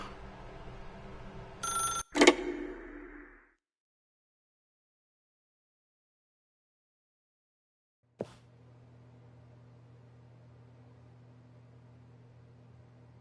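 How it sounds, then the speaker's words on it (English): A telephone rings in The Stanley Parable video game: a loud, close burst of bell ringing near the start, cut off into silence, then a steady low hum. "If you can truly place your faith in another, then pick up the phone."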